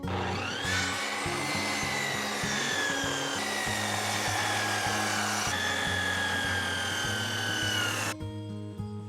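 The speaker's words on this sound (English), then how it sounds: "Careful saw cuts define the shoulders, which will lock tightly against the adjoining beam." A hand saw cuts tenon shoulders in a timber beam for a scissor truss, a close, steady rasping with repeated rhythmic strokes throughout, ending abruptly.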